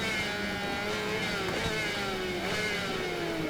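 Yamaha R6 motorcycle racing in the Ride 4 video game, its engine screaming at high revs in a loud, steady whine with shifting pitch as it accelerates and upshifts, heard close and continuous.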